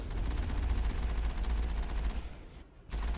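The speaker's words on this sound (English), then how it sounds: "Just gotta keep the Mako firing, keep the cannons working on this guy" Mako tank cannons in Mass Effect firing in a steady rapid stream of thudding shots with a heavy low rumble, then cutting out into a short near-silence before a final burst.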